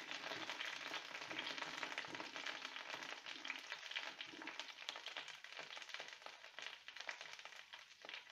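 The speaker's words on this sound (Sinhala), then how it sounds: "තෙල් ටික රත් වුණාට පස්සේ මම දානවා රම්පේ කරමිච්චයි." Pandan and curry leaves frying in hot oil in a wok, a constant crackling sizzle with scattered pops, fairly faint and steady throughout with no talking.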